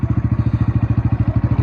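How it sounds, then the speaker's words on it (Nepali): A motorcycle engine putters at night in a fast, even thumping rhythm. It is loud and close, running steadily the whole time with nothing else over it. "यो चाहिँ बाइकको आवाज भयो"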